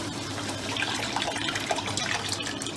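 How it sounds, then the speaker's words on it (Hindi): Milk pours into a pan while a mango dessert is being made, a steady liquid splash and trickle running continuously at close range with no voices. "और इसमें फिर दूध शामिल करना है। दूध शामिल करेंगे।"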